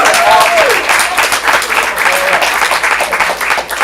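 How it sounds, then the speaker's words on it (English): An improv comedy audience in Portland applauds loudly and steadily, dense clapping filling the room with a few cheers and voices mixed in. "Give yourselves a round of applause"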